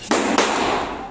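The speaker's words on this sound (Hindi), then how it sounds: "पांचों में इकट्ठी आग लगाते हैं और गाइस ये देखो कितने सारे पटाखे फोड़े" A bundle of five firecrackers lit together goes off at close range as two sharp, loud bangs a quarter second apart, then a rough crackling hiss that fades quickly.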